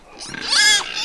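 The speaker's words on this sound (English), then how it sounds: "We have noisy pigs here, I must apologise for." Pigs on a smallholding let out a single close, loud squealing grunt that rises and falls in pitch, with a quieter snort just before it.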